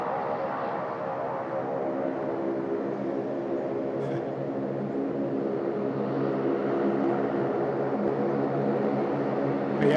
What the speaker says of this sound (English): little Link Airways on the way in as well